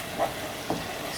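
Fried food being stirred in a pan with a spoonful of oyster sauce, steady close sizzling with a couple of soft scraping stirs.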